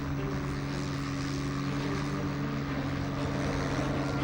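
Steady, continuous drone of a propeller-driven warplane engine in level flight in the IL-2 Sturmovik flight game on Xbox 360, with a constant low hum and no talk.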